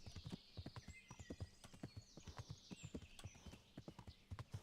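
Horse hooves in Kingdom Come: Deliverance clip-clop in a quick, steady rhythmic gait, close and distinct, with a brief whinny-like tone over the faint game ambience.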